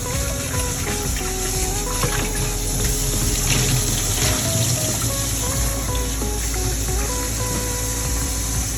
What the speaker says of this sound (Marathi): तीन ते चार पाण्याने धुतले आपण जोपर्यंत काळं पाणी यायचं बंद होतं तोपर्यंत धुवायचे आपण